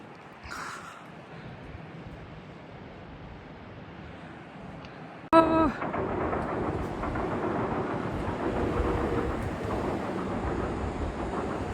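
Quiet outdoor background, then a sudden clank and a louder, sustained rumble of the Hida limited express train pulling into a station, with a faint bird call early on.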